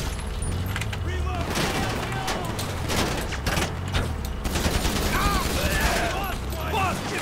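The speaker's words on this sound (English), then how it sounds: "AP pistol for you in the head." Rapid AP pistol gunfire in GTA 5 Online during a Drug Wars mission, dense overlapping shots and game noise throughout, with scattered chirpy effects near the end.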